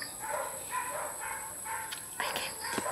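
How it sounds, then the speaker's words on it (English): Dogs barking repeatedly nearby, a series of rhythmic barks and yips over a steady background hiss, fairly loud and without talk. "the dogs won't shut up, so you have to bear with me"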